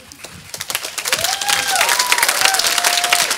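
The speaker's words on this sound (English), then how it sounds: "I think we all need to give them another round of applause" An audience at a high school choir's spring concert breaks into applause that starts thin and swells into steady, dense clapping, with a faint whistle-like tone gliding over the middle of it.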